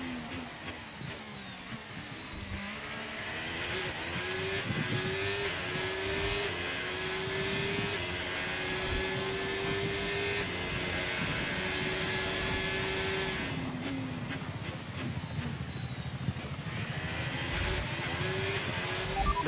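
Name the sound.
Formula 1 car engine racing a lap, F1 25 video game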